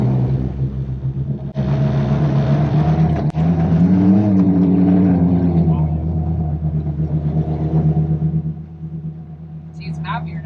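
A modified Smart Car with a welded differential rumbles along at normal speed around a barn, its engine a steady low drone that swells briefly, while people talk over it.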